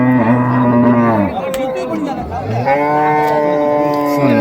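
A native cow at a cattle market moos loudly and close, with long low drawn-out calls broken by a brief pause, and faint voices in the background.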